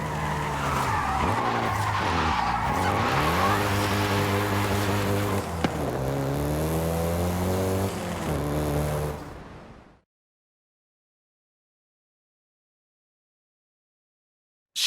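Volkswagen Golf GTI driving in Forza Horizon 5, engine revving up through gears with tires squealing in a sustained skid, loud and close, before cutting abruptly to silence.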